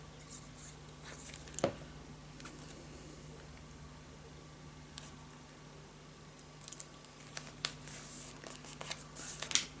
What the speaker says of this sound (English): Burnish it down